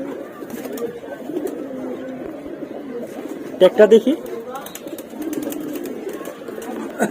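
Pigeons in a loft coo softly and repeatedly nearby, with a brief burst of wing flaps midway, while someone talks over them.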